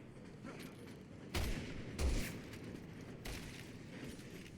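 Three sharp sniper rifle shots ring out in Resident Evil 6 gameplay, evenly spaced and loud against a steady background ambience, with no talk over them.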